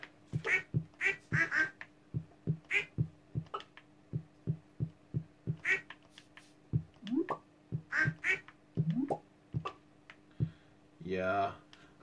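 Ducks quacking on a farm in the Stardew Valley video game, a rapid series of short, evenly spaced quacks repeating over several seconds, fairly close, with a brief burst of another game sound near the end.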